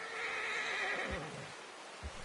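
A horse whinnies in Red Dead Redemption 2, a long, loud neigh filling the first second before trailing off, followed by a couple of soft hoof thuds with no talking.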